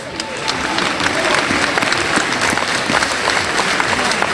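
Warm audience applause for amateur pastry competitors at a Salon du Chocolat 2021 awards ceremony, a dense, sustained crowd clapping with a faint voice mixed underneath.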